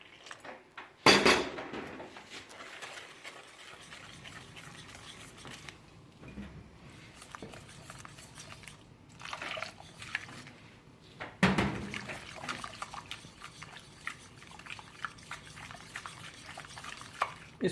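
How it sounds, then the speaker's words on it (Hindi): Water being stirred into a spiced bread samosa batter in a bowl, with a spoon scraping and clinking against the sides in uneven bursts, and a couple of sharper knocks standing out over quiet kitchen background. "इसमें पानी मिक्स करना है।"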